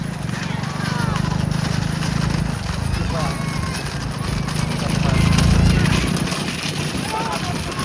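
Horses pull racing carts at full speed on the Dadamatti maidan, a dense rumble of hooves and wheels with a whinny, loud and close, while an excited commentator talks over it throughout.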